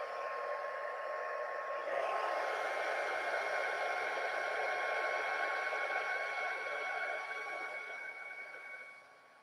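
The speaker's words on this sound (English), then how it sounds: "So I'm going to go ahead and heat set it" A heat tool blows hot air to set embossing powder on a handmade card, making a steady, fairly faint whirring roar that continues for several seconds and fades away at the end.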